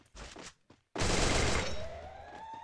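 Burst of video game gunfire in a solo ranked shooter match, a sudden loud volley of rapid shots that rings out and decays, preceded by brief indistinct sounds.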